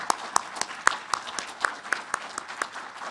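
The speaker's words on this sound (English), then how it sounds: "please join me in thanking him with applause" Audience applause at an awards and closing remarks event, with sparse individual claps standing out as distinct sharp hits over a soft crowd wash, moderately loud and fairly close, with no talking.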